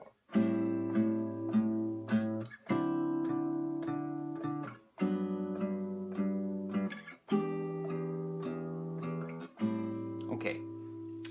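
Guitar strummed chords, one per bar, with a single bass note struck on every beat. The chords ring close and clear in steady repeated bursts, and no one talks over them.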